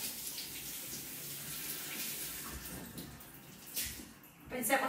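Cold water runs from a tap in a steady broadband hiss, louder and splashier near the end, with brief indistinct voice underneath.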